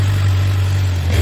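A Suzuki motorcycle's engine, started on a newly fitted starter motor, runs with a steady low idling hum, close and loud for a short moment with no voices.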